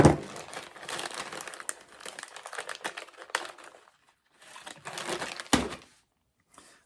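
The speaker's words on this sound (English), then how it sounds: "as you pull this, you'll hear it click. When it's clicking, it's actually zipping and it will not come out." A cable tie, also called a zip tie, being pulled tight through its ratchet, giving a close, dry run of crinkly ticks in two bursts with a short pause between.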